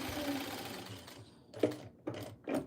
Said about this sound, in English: so that my sewing machine isn't too loud